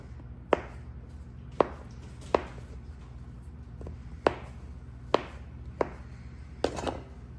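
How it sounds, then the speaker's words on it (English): Seven sharp knife chops through soft canned biscuit dough on a cutting board, spaced irregularly over a quiet kitchen background, fairly close and crisp. "Cut up your biscuits."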